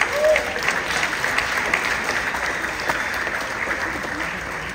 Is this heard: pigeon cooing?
no